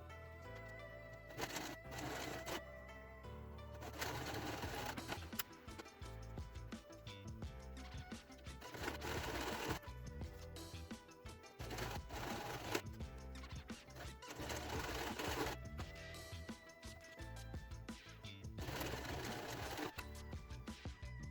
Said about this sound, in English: So this is what I'm gonna sew together.